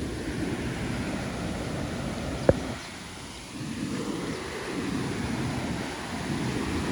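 Fast-flowing canal water beside Punjab paddy fields rushes in a steady, loud broadband wash with wind buffeting the microphone and one brief sharp tick partway through.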